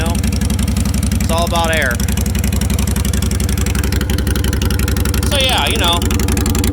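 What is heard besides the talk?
motorcycle engine idling with mufflers removed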